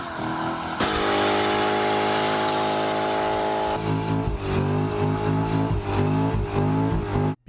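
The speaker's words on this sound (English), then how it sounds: "it can light the tires up without any trouble whatsoever" Car lighting up its tires in a burnout, a loud sustained engine roar at high revs with a steady droning tone, shifting pitch midway, then abruptly stopping.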